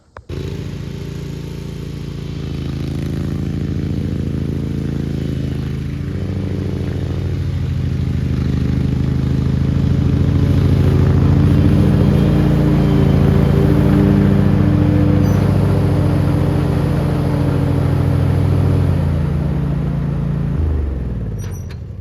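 A Ferris zero-turn mower engine running on a test drive, a steady loud low-pitched drone with a sustained rumble that swells slightly in the middle and cuts off near the end.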